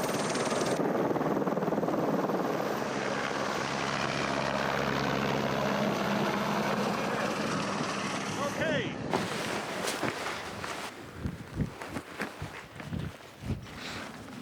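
A helicopter flies through the Lauterbrunnen valley near the Jungfrau, a loud steady rotor roar filling the first nine seconds before it cuts off and gives way to closer footsteps and scuffing.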